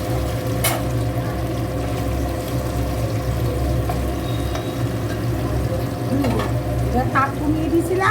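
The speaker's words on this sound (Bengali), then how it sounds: "এখন এগুলো এক এক করে ভেজে নেব সব" Pabda fish fry in hot oil, a loud steady sizzle with low cooktop hum and a few faint clinks, with brief indistinct voice sounds near the end.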